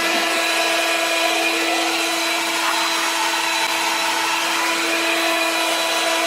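A WorX 40V cordless yard blower runs continuously at close range, giving a loud, steady whine with a strong tonal hum and airy rush and no change in speed.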